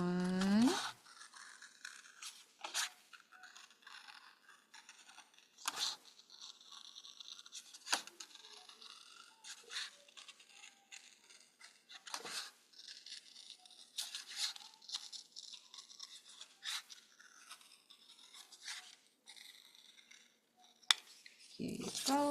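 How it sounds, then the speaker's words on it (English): Scissors snip through fabric while two circles are cut out for a winter hat, giving soft scattered cuts and rustles with brief pauses, fairly close and quiet. "And then let's cut out 2 circles."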